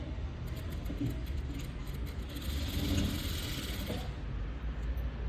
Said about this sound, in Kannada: ನಾನು ಇಲ್ಲಿ ಹಾಕಿರೋಂತಹ ಗುಂಡ್ ತೆಗೆದು ನೀಟಾಗಿ ಸ್ಟಿಚ್ ಮಾಡ್ಕೊತಾ ಇದ್ದೀನಿ